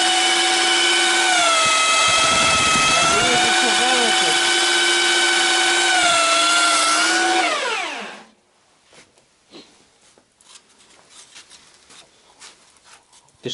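A loud, steady high-pitched power tool whine runs for several seconds while honing the engine cylinders of an IZh Jupiter-4 motorcycle in a garage, then winds down and stops, leaving faint clinks and scraping.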